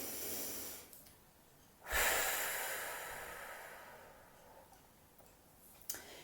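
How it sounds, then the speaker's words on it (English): A single big, deep breath drawn in around two seconds, loud and close, then a long, slowly fading exhale, alone in a quiet room with no talk and a small click near the end. "And then we take a big breath."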